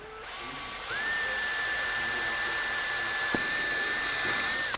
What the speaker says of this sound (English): we're gonna use a step-up drill bit